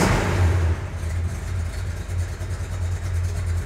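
Big block Mopar V8 in a Dodge Super Bee with a lopey cam, idling loud and close with a deep, uneven rumble and short revs through the exhaust.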